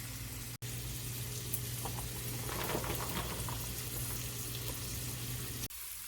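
Green beans cook in bacon grease in a shallow pan, giving a steady soft sizzle and bubbling under a constant low hum, with brief stirring scrapes near the middle and no talk.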